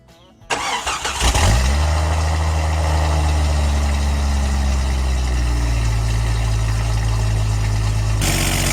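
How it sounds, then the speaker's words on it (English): A truck engine cranks and starts, then idles with a steady, loud, deep rumble, a heavy exhaust leak at a Thrush 17631 muffler adding to the close, continuous drone. "Got quite a bit of a muffler leak right here."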